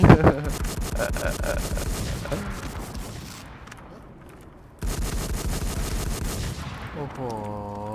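Rapid automatic gunfire from the video game WarZ rattles out in long sustained bursts, loud and close, with a short pause in the middle and an electronic chime sweep at the end.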